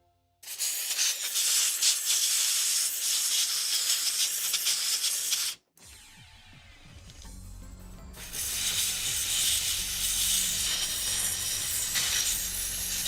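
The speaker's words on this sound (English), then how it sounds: "And I wanted to spray it on the contacts on this side as well." Aerosol contact cleaner hisses steadily onto electrical contacts during an 1982 Corvette restoration, two long loud bursts of spray separated by a short pause, close and alone with no voices.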